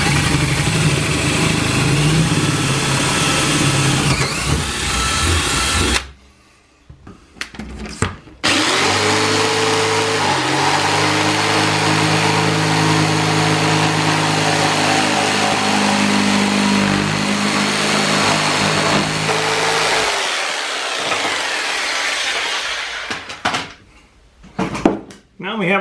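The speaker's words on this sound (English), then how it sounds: "I'm going to drill 4 holes, 1 in each corner." A power drill runs loudly and close for long stretches, drilling holes for a chicken coop door, its pitch shifting as it bites in, with brief pauses between bursts.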